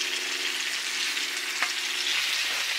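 Perch fillets frying in a pan with lemon and ginger pieces, a steady close sizzle with light crackle and a faint low hum throughout.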